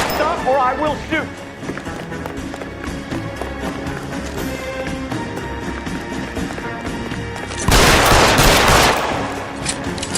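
Gunfire in the LA Noire video game, a loud broadband burst of shots lasting about a second near the end, over a continuous bed of music and game sound.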